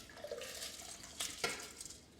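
Soaked basmati rice and water pour into a Thermomix bowl with a wet, splashy rush and a couple of sharper knocks, close and fairly quiet.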